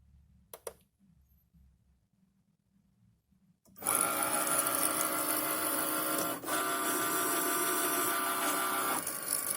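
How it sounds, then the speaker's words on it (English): A Cricut machine cutting holographic glitter heat-transfer vinyl: after a quiet stretch with a few clicks, a loud, steady mechanical whir and buzz starts abruptly and runs on, with one brief dip. "Okay, now I'm gonna feed it into the machine. Now I'm gonna start cutting."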